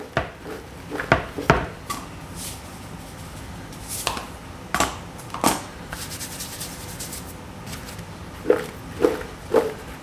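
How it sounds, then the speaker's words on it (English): Salted eggplant pieces tossed in a bowl give a run of irregular clattering knocks and taps, some sharp and close, with quieter rustling between bursts. "And we're going to toss them. Make sure that salt gets all around in there."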